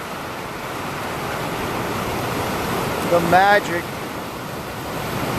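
Sea waves break on the shore in a steady, broad wash of surf that stays loud and constant, with a short spoken word heard over it near the middle.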